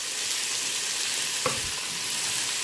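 Green chillies fry in a pan for chicken biryani with a steady, close hiss of sizzling oil and one brief clack from a utensil partway through, no voices present.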